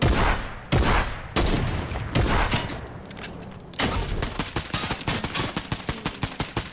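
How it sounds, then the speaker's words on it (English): Machine gun fire in Fortnite, with rapid bursts of close, loud shots, short pauses, then a long steady stretch of rhythmic firing, with a few heavier booms mixed in. "Yo, I am on that machine gun"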